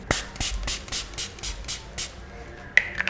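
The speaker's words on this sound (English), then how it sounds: "you can just use this and just spray it all over your face for like instant freshness" A facial mist spray is shaken and then pumped onto a face in a series of about eight quick, regular hissing puffs, close and clear, followed by a couple of faint handling clicks.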